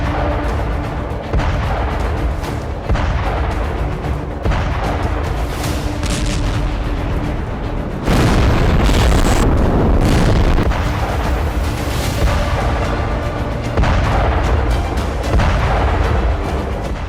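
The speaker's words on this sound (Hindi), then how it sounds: "वो बैटलफील्ड में जबरदस्त बारूद बरसा रहे हैं।" Russian tanks firing on a battlefield in the Ukraine war: heavy, repeated booms and blasts roll over a continuous rumbling din, loud and close, with the strongest bursts midway through.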